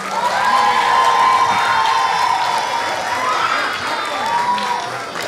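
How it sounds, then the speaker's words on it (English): Audience at a summer camp finale cheering and clapping for a group leaving the stage, with excited children's shouts and whoops over a continuous crowd roar at moderate volume. "Can we give another round of applause for Group 4?"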